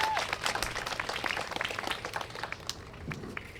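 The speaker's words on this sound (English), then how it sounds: "Let's give her a round of applause." A crowd applauds at an outdoor Indigenous Peoples' Day gathering, dense and fairly quiet clapping that fades slightly toward the end, with faint background voices.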